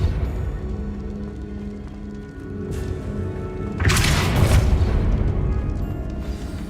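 Depulso spell blast in Hogwarts Legacy: a sudden whooshing burst with a deep booming impact midway, rising out of steady low game ambience and lingering as a rumbling roar.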